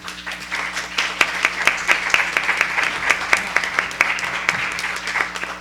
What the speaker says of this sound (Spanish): les voy a pedir por favor un aplauso